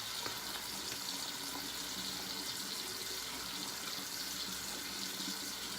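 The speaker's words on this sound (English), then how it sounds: "I'm gonna have to add a little bit of water to it." Water runs steadily from a tap to be added to shaving soap, a soft continuous splashing hiss that stays even throughout at low level.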